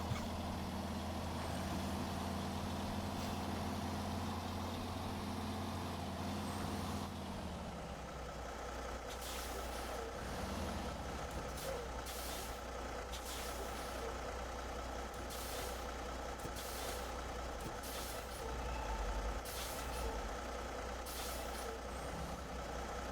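A farm vehicle on a snowy Winter Farm map rolls slowly with a low engine drone. A hiss like an air brake comes partway through, then a quieter rumble carries on with regular sharp clicks or beeps.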